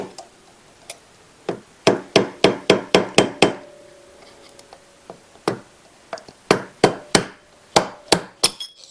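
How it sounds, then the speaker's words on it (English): A screwdriver tapping metal on a part of a Polaris Sportsman ATV, sharp close knocks in quick runs of several strikes, broken by pauses and loud against a quiet background. "Give her a little tap with a screwdriver"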